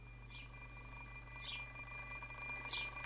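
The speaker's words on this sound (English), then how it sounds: "I save and turn off the ringing alarm clock." Electronic alarm clock ringing in the Fate/stay night visual novel, a faint high-pitched beeping that repeats three times at regular intervals over a steady low hum.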